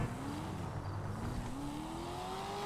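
Car driving in a role-play video game, a steady engine drone whose pitch climbs gradually as it accelerates, loud and continuous with road noise and no talking.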